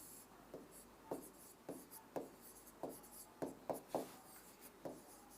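Chalk or marker writes on a teaching board in a quiet room, a series of short scratchy strokes in uneven rhythm, about a dozen distinct marks.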